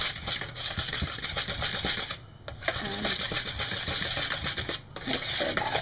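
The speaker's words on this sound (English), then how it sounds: "you want to whisk that or stir it just to incorporate" Flour and salt being whisked together in a bowl for flour tortillas: quick, scratchy, rhythmic strokes run steadily and close up, with two brief pauses.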